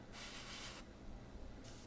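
Airbrush spraying black paint at low pressure onto a 1/48 scale F-4B Phantom model, a steady close hiss in two bursts separated by a pause, with no talking.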